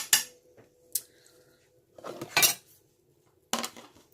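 Metal utensils clink and clatter against dishes in a home kitchen while chili is being canned, a few sharp separate bursts with quiet gaps, close by and without speech.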